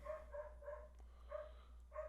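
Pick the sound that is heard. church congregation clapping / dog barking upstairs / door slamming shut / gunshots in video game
dog barking upstairs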